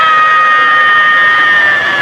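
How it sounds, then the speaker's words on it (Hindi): A man lets out a loud scream in a horror story, a single sustained, piercing cry held at full volume from start to finish, close and alone. "औरित्रो जोर से चीखा"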